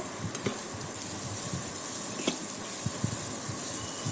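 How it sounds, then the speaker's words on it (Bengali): Onions and chillies sizzle in a pan in a soft, continuous frying hiss, broken by a few light taps and clinks of stirring. "পেঁয়াজ দিয়ে সব কিছু ভালো করে ভেজে নিতে হবে যতক্ষণ না পেঁয়াজগুলো নরম হয়ে আসছে।"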